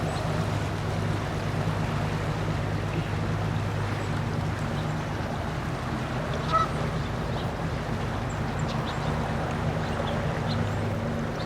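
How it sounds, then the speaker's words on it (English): A boat passes on a river near canal locks, its engine a steady low drone holding alone and unbroken throughout, with faint bird calls scattered above. "And there's another boat going by."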